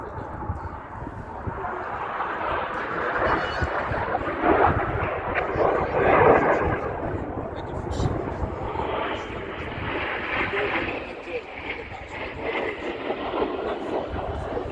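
RAF Red Arrows aerobatic jets performing a display at RAF Cosford, a sustained loud broadband roar that swells and recedes as the aircraft pass, with a commentator's voice over the public address.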